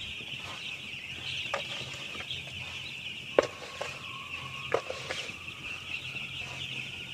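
Young broiler chickens in a poultry house cluck and peep continuously as a dense flock, with a few sharper knocks and clicks standing out over the steady chorus.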